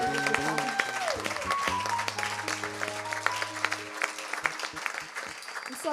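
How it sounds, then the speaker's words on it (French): Church congregation applauding, a dense steady patter of clapping heard under sustained keyboard or organ tones and a voice speaking over it. "est-ce que vous pouvez faire un tonnerre d'applaudissements"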